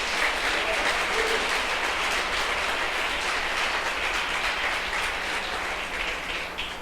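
Steady applause from a church congregation fills the full stretch, broad and continuous, with a low hum underneath and no pauses.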